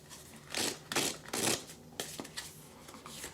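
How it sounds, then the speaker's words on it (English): Shuffling of a Lover's Oracle card deck during a love tarot reading: a quick series of riffling, papery bursts, close and fairly loud, with no talking over it. "We're going to shuffle."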